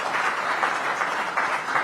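A crowd applauds steadily after a speech about medical university gold medals, a dense, even wash of many hands clapping from moderate distance with no pauses.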